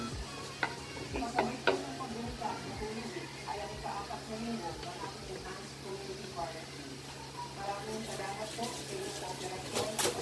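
Food being stirred in a frying pan, with steady scraping and a light sizzle running throughout, close and fairly quiet beneath background voices.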